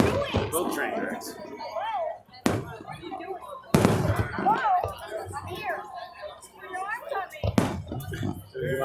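Fireworks and firecrackers go off outdoors, with several sharp loud bangs standing out at intervals over crowd chatter and close conversation.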